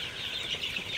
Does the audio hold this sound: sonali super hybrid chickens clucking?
yes